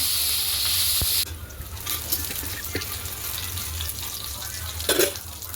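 Green chillies fry in hot oil with cumin and mustard seeds, a loud hiss at first that drops to a lighter, crackling sizzle with small pops and a brief stirring scrape near the end.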